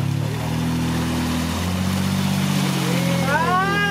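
A Troller T4 or Jeep Wrangler JK off-road engine drones and revs steadily at close range on a muddy, eroded trail, with a rising whine near the end as the revs climb.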